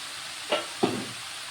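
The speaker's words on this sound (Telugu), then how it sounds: "చూడండి ఇలా శనగపప్పు అయితే వేసేసుకుంటున్నా" Chana dal frying in a pan for cabbage and chana dal curry makes a soft continuous sizzle, with two quick scraping stirs close by.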